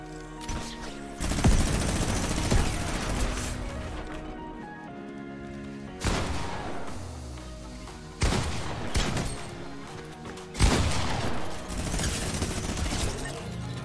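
A minigun fires in Fortnite Battle Royale, with several long, loud, sustained bursts of rapid fire lasting a few seconds each and separated by short pauses.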